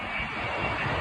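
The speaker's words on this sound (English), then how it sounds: "Whoa, I'm running fast, but the airplane is following me." A huge airplane passes close overhead, its engines making a loud, dense, steady roar that fills the whole brief moment.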